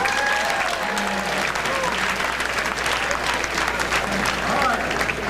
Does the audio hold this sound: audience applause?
yes